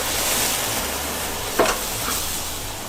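Hot grease sizzles steadily on a flat griddle as a mushroom Swiss smash burger patty is pressed down, a continuous hiss with a brief louder crackling burst partway through.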